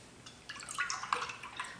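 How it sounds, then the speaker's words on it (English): Soy milk being poured into a container for a Ninja Creami sweet corn ice cream, a faint close splashing and splattering with small drips that start about halfway through, with no talk. "did you see that, how it's splattering? Turn it, pour it this way, and you get a nice pour."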